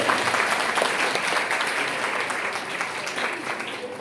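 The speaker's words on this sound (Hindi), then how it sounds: "आइए हम तालियों के साथ उनको हम थैंक यू बोलेंगे।" Audience applause at a Christian women's empowerment workshop, a steady, dense wash of clapping that holds evenly through the whole stretch, with faint voices mixed in underneath.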